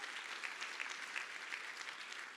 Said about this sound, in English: Clapping is always allowed.